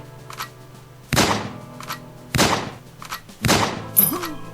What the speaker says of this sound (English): Take the precise shots with shotgun by aiming a little bit closer